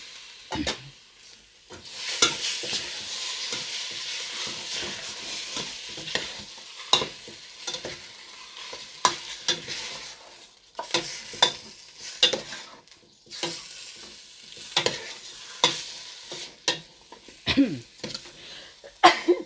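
Pork pieces and pork bones are stirred into red curry paste in a hot pan for a Thai jungle curry, giving repeated scraping stirs over a continuous sizzle, close and fairly loud.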